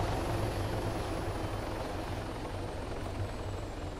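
Helicopter in the video game Arma 3, a steady loud rotor thump and engine roar throughout, with no speech over it.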